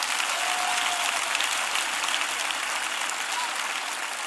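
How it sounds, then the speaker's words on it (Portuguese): A church congregation at a gathering in Accra, Ghana claps together in sustained, dense applause that holds steady throughout, loud and continuous with no speech over it. "Bata palmas para Jesus."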